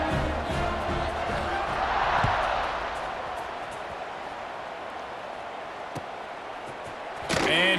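A college football stadium crowd, NC A&T vs Hawaii, roars steadily during a kickoff, a broad, continuous wash of noise that swells and then eases slightly, with a louder burst near the end.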